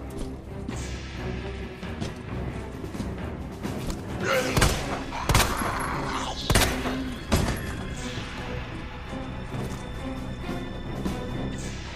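Gunfire in Resident Evil 2 Remake, several sharp loud shots spaced over a few seconds amid tense game ambience and music, with brief speech.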